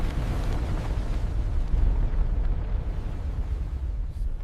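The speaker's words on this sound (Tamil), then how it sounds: "எரிமலை வெடித்தது." A volcano erupts in a cinematic AI mythology film, heard as a dense, continuous rumbling roar with deep low-end weight that holds at steady loudness throughout.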